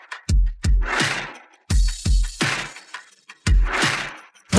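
Raw jade stones are struck open with heavy blows, each a sharp, loud crack followed by a brief crumbling crash, repeating several times in irregular rhythm.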